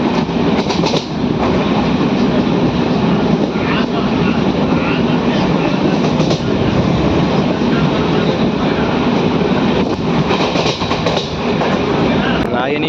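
A Kachiguda–Nadikudi DEMU train runs with a loud, steady rumble and rhythmic clickety-clack of wheels on rail joints, heard from on board throughout.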